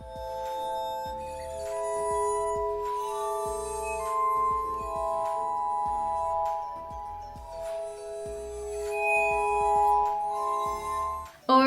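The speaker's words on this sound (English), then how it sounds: "how about music made from specially designed glass bowls?" Music played on specially designed glass bowls, sustained ringing tones that overlap and decay with clear struck onsets, a calm melodic sequence heard alone and close.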